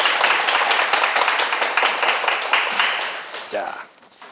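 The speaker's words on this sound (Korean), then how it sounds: "큰 박수 부탁드립니다" A lecture audience at a Buddha's Birthday Dharma talk claps together, a dense patter of many hands that holds steady and then thins and fades near the end as a voice starts.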